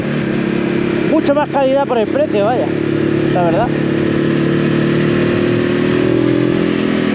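A Voge 525 ACX 2023 motorcycle engine runs with a steady, loud drone throughout while someone talks over it for the first few seconds.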